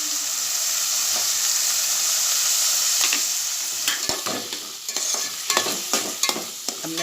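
Chopped onions and green chillies fry in a pan for Maharashtrian kanda pohe, a close, bright sizzle that thins out toward the end as a spatula scrapes and taps against the metal in irregular strokes.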